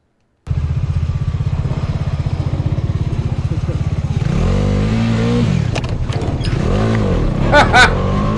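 A motorcycle's engine runs steadily, then revs and accelerates hard, its pitch rising and falling through several loud sweeps, with a brief clatter near the end.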